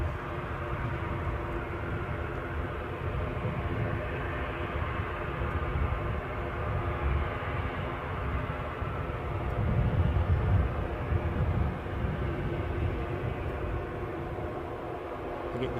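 An incoming airliner from Belfast approaching Edinburgh airport gives a steady broad jet roar heard at close range, swelling slightly louder toward the middle and then easing off.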